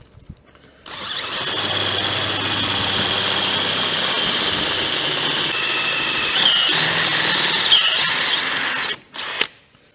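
A power drill bores through a steel roof panel, stepping up to a 9.2 mm hole for a riv nut; a loud, steady close whine runs for about eight seconds, then stops briefly before one short final burst.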